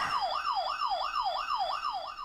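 A siren at the Ghostbusters firehouse wails in a fast, steady yelp, sweeping up and down about three times a second. It is loud and close, runs continuously with no talking, and keeps bright overtones above the main tone.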